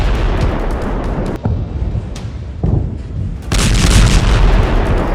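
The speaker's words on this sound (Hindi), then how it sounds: "इनको ऐसे ऐसे बमों से लैस किया गया है जिनसे ऐसे धमाके हो रहे हैं।" Bomb blasts from Israeli airstrikes in Syria, with repeated heavy booms and thuds in rapid succession, loud and rumbling, building to a denser, louder barrage toward the end.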